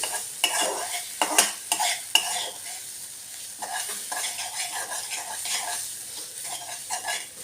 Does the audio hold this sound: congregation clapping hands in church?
no